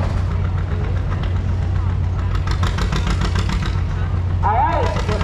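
An antique John Deere 630 tractor engine running steadily at a tractor pull, a low rhythmic chugging throb close by, with people talking over it.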